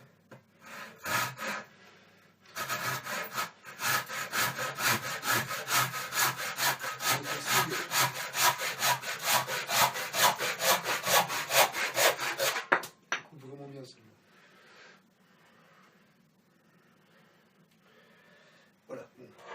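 A hand saw cuts wood for a wooden spoon in quick, regular back-and-forth strokes, loud and close for about ten seconds, followed by quieter handling sounds.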